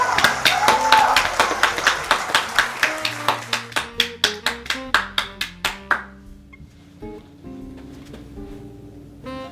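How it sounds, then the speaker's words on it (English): Clapping in tribute to key workers during the pandemic: a steady, evenly paced run of sharp claps that stops abruptly, leaving a few soft ringing tones behind. "I'd like to announce a round of applause for all the hard-working key workers"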